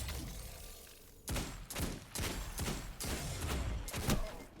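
Five loud, evenly spaced gunshots from a weapon in the shooter game Destiny 2, each a sharp close crack with a short tail, following a brief quieter lead-in.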